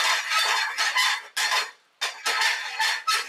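Prawns (kolambi) browning in a pan for a Kolhapur-style masala are stirred with a spoon, making close, repeated bursts of scraping and sizzling with short pauses between strokes and no talking.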